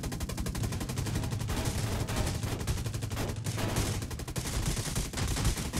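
Rapid, continuous gunfire from vehicles in a death race video game, dense loud bursts of shots running without pause throughout.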